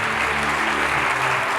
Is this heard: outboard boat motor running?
no